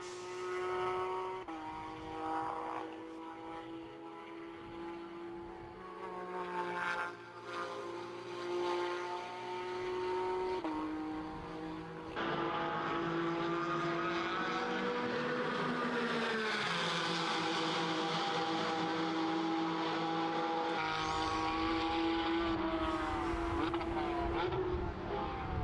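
Porsche race cars in a Porsche Sports Cup Suisse race at Portimao circuit; sustained engine notes rise and fall as cars shift through corners, steady and fairly loud throughout.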